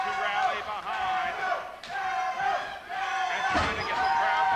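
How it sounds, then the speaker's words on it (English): A wrestling crowd roars and chants in surging waves behind Shadow Jackson during an NWA match, loud and dense, with a commentator's voice woven into the noise. "The crowd rallying behind Shadow Jackson."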